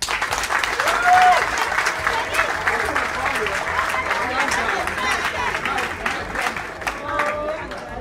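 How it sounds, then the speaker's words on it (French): A crowd at a ceremony celebrating a general's promotion applauds steadily for several seconds, a dense, even wash of clapping with a few voices rising above it. "On applaudit."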